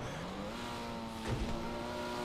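A car driving on a freeway back into the city in GTA, its engine holding a steady tone, briefly revving higher with a short thump midway, heard alone without talk.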